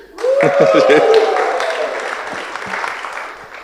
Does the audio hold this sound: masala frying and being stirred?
no